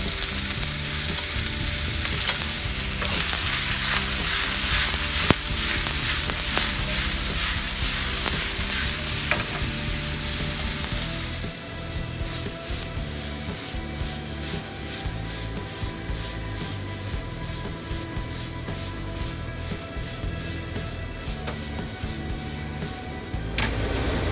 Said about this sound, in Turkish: içerisine mantarlarımızı ekliyoruz. Üç beş dakika kavuruyoruz.